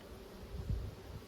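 Agitated honeybees buzz loudly and close during a hive inspection, a dense droning hum that surges and swells after a sudden movement, with no voices.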